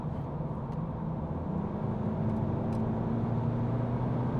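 A turbocharged BMW 420d with the N47 diesel engine and an aftermarket turbo kit accelerates, a loud steady drone from the cabin that rises gradually in pitch, with no talking.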